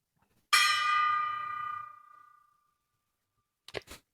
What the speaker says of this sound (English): enough of the gong of decision